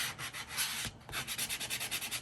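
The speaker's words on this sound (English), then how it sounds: "And I'm just sanding some of that shiny off." A small sanding block rubs back and forth across a chunky mini traveler's-style journal cover, making a steady rhythmic scratchy scrubbing with a brief pause partway through.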